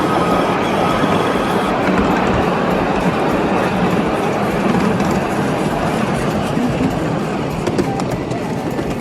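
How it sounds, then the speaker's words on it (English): Miniature park train at Iron Horse Park in Airdrie, Alberta, heard as a steady, loud rolling rumble with dense rail noise throughout, close by and constant, no clear voices. "Oh, look at the small train."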